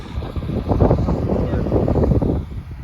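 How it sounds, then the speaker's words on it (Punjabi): A combine harvester works through a wheat field, its steady engine roar mixed with wind buffeting the microphone, while a person talks over it. "ਚਲਾਤੀ ਮਸ਼ੀਨ ਚੱਲੀ ਜਾਂਦੀ ਹੈਗੀ"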